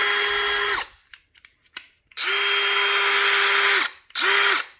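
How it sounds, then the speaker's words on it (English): A DeWalt DCD777 cordless drill whirs up loudly in three separate bursts, each held for about a second or two and then released, with brief quiet gaps and small handling clicks in between. "Nothing too fancy here, standard basic drill."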